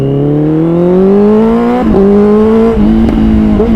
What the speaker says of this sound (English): it's a replacement exhaust.